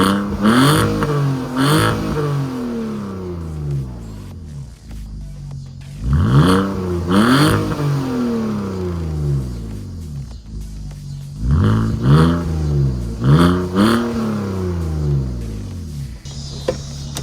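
A 2004 BMW 330i ZHP with a muffler delete and otherwise stock setup revs hard in several loud, close bursts, each rising sharply then falling back to a rumbling idle between pulls.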